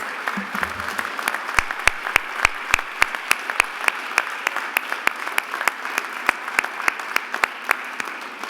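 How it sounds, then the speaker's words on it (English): A graduation convocation audience applauds, with crisp individual claps standing out over a softer wash of clapping in a large hall, sustained and fairly even throughout. "Let's give our graduates a big round of applause."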